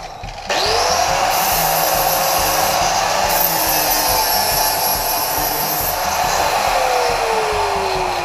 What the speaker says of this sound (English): to take a grinder with a flapper disc. And clean up any of the burrs.